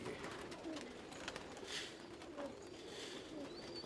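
A large female Heera Lal breed pigeon coos softly and steadily close by, with faint background noise and no talking.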